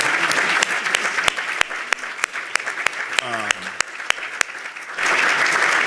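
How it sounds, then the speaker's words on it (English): A room of attendees at an education panel on the educator pipeline gives the panelists a loud, sustained round of applause, with sharp individual claps standing out over the dense clapping and a brief voice midway through. "can we give this group of panelists a big round of applause?"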